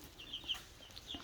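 Baby chicks give a handful of high, thin peeps in quick irregular succession, faint and close, with no voices.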